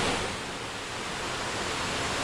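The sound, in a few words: waterfall, Lower North Falls in Oregon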